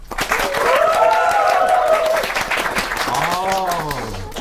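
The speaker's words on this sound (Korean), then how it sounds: "박수!" Studio audience at a Korean public radio broadcast claps, with loud applause beneath overlapping voices and laughter from hosts and announcers.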